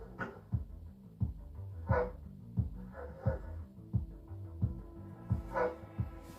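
Police sniffer dogs bark repeatedly in a steady rhythm, close by, with short excited yelps and whines between the barks.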